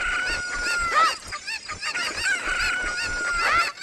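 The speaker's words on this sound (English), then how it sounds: "We'll go ahead and take both of these chickens over." Cucco chickens in the video game Zelda Master Quest 3D give loud, repeated squawking and clucking calls in quick bursts, close and alone with no talk.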